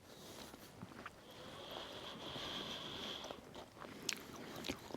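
Soft cooked apple being eaten at a cold winter campsite, with soft chewing and moist biting sounds over a steady outdoor hiss and a few sharper clicks near the end.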